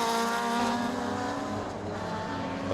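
Retro race cars brake hard into an uphill hairpin and turn through a right-hander, with a loud, continuous engine roar and a falling pitch as they slow, close by.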